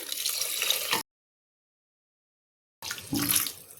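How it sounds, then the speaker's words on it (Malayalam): Water pours and splashes onto rice in two short bursts separated by a stretch of silence, fairly close. "അരി മുങ്ങുന്ന രീതിയിൽ കുറച്ച് വെള്ളം ഒഴിച്ച് കൊടുക്കും"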